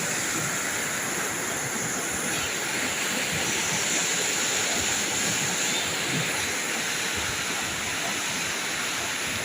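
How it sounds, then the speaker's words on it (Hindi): Monsoon floodwater roars in a dense, continuous rush, a broad steady wash of churning water that stays loud and unbroken from start to finish, with no voices over it. "पानी गर्जन कर"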